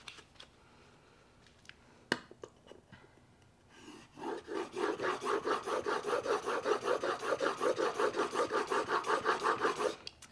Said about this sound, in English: my honing guide is rubbing on the stone